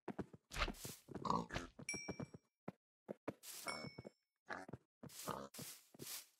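Several pigs grunt and oink in a rapid, uneven series of close, loud bursts in Minecraft VR, with a few light dings between them.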